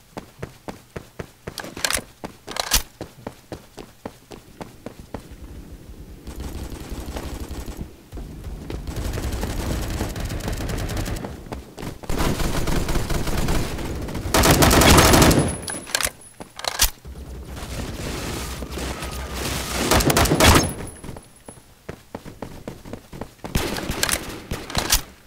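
Gunfire in the Roblox game Phantom Forces rings out in repeated bursts of rapid close shots, some short and clipped, others long sustained volleys, with brief pauses between.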